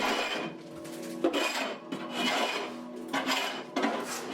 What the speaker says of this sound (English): I'll take this big honkin' scraper and remove all the hot glue beads